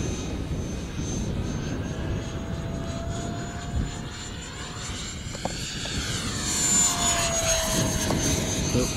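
A Viper Jet model with a 50mm electric ducted fan flies at a little over half throttle under a blue sky, its steady whining drone rising and falling in pitch as it passes, fairly loud throughout with no talking.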